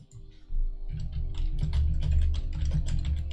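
Computer keyboard typing, a rapid run of clicky keystrokes following a brief quiet start, steady and fairly close over a low hum.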